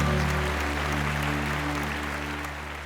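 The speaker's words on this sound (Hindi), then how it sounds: "इसका लोगों ने तालियों की गड़गड़ाहट से स्वागत किया।" A gathered crowd applauds steadily in a dense, even wash of clapping, with a low electrical hum underneath, fading slightly toward the end.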